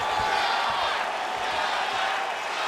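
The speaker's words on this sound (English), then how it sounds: "So the crowd voicing its appreciation after that round." In the UFC 4 fighting video game, an arena crowd cheers after a round of a simulated bout, a steady, loud roar of many voices holding without a break.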